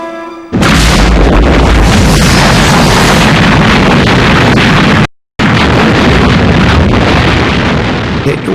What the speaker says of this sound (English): Must be 650 guns they are firing